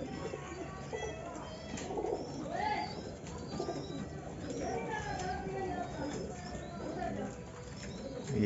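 Pigeons coo repeatedly in a loft where a female sits on eggs and a male calls, soft throaty coos layered under someone talking nearby.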